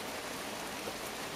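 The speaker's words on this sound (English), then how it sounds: "It's raining heavily, as you can see" Heavy rain falling steadily outdoors beside a Ford Focus wagon, a dense, even hiss of drops with no breaks, moderately loud and alone without voices.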